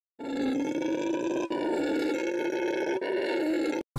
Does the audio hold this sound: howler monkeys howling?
yes